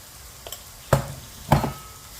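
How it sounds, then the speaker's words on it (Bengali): Spices, including cinnamon powder, frying in a pan for a chicken roast, giving a low steady sizzle broken by two sharp clinks of stirring against the pan, with no talking. "এখন একটু ভেজে নিচ্ছি।"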